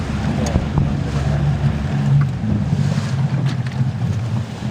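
Wind blows across a boat at sea, heard as a loud steady rumble and roar of buffeting air and engine-like drone that continues throughout, with no clear speech.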